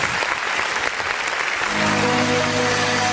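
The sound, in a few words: congregation applauding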